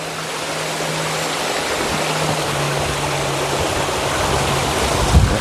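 Continuous close rush of stream water at a grotto on Mount Makiling, steady and fairly loud, with a faint low hum and a brief bump near the end.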